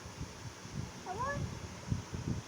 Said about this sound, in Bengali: আদিয়ার তো অনেক সুন্দর একটা ম্যাও আছে।